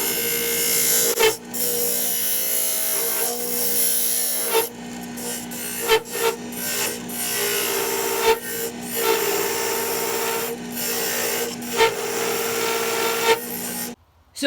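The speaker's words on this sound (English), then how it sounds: "So as you heard, we were getting quite a lot of vibration as we were starting to come down and hollow this thing out." A walnut pencil holder turns on a wood lathe while a parting tool hollows it out, giving a continuous close scraping cut with audible vibration and chatter, broken by short pauses and a few sharp taps, with no voices.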